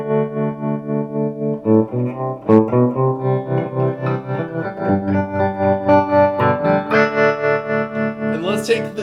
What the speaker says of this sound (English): So let's hear that a little choppier and see what that sounds like.